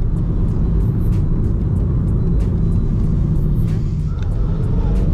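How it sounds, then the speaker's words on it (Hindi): Inside the cabin of a moving Honda WR-V petrol car, a steady low road rumble of tyre noise runs throughout, well muffled and constant, with a few faint clicks and rattles and a voice in the background. "बाहर की नॉइस बहुत कम आ रही है, टायरों की आ रही है हल्की हल्की सी।"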